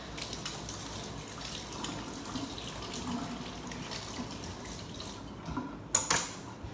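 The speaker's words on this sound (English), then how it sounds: "I have to rinse off the spoon." A kitchen tap runs steadily as a spoon is rinsed under it, a continuous mid-level water hiss that ends with a louder splash and clatter near the finish.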